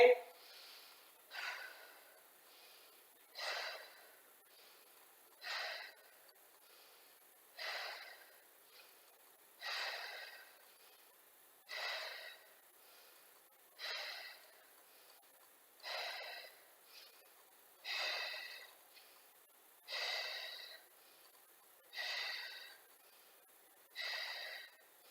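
Paced inhale and exhale breaths during a Pilates mat exercise, about a dozen regular bursts roughly two seconds apart, moderately close and breathy, with no talking over them.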